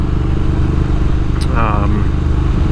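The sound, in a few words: motorcycle riding on back roads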